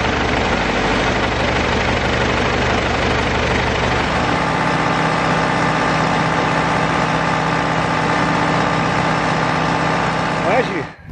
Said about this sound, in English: riding on the tractor coming down through the field